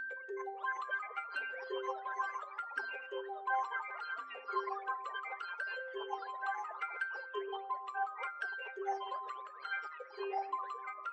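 A soft, washy melodic sample in a dark hip-hop production, pitched down an octave. A continuous shimmering phrase loops with rippling tonal notes at low volume and no voices.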